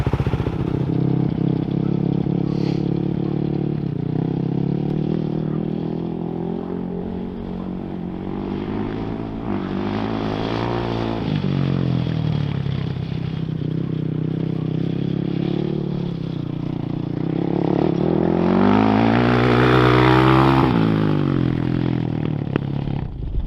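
A 2007 Yamaha YFZ 450 ATV engine runs steadily after carburetor jetting, a loud continuous four-stroke drone that swells and revs higher near the end as the quad is ridden around a yard.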